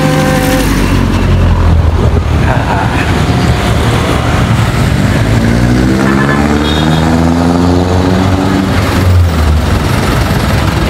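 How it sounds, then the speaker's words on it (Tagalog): City street traffic crossing a small bridge over a creek: a dense, loud, continuous roar of car and motorcycle engines passing close by, with no pauses. "Yun, so traffic oh,"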